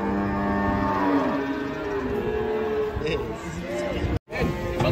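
A cow moos close by, a long low drawn-out call followed by shorter lowing, over crowd chatter and background hubbub.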